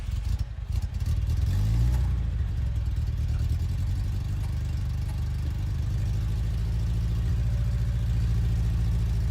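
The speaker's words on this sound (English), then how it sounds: "Yeah, we want to be able to hear the engine." A car engine revs in a showroom, a loud low throaty growl that surges early then settles into a steady deep rumble, close and alone.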